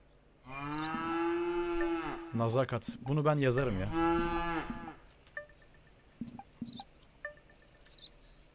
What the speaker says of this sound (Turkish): İnekler oynuyor.